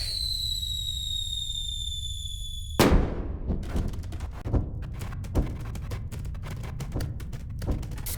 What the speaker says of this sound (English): This is a firework.